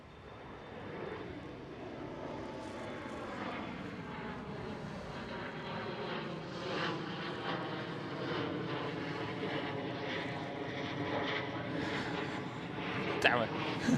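A KLM Cityhopper Embraer E175 departing Schiphol, its moderately distant jet roar holding steady with layered whining engine tones drifting in pitch, and a short sharp knock near the end.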